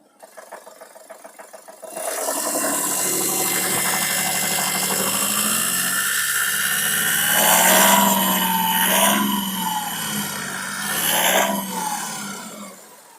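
A VW diesel engine with reprogrammed Delphi fuel injectors idles close by, a steady rumbling drone after a few quick rhythmic pulses at the start, swelling slightly at moments.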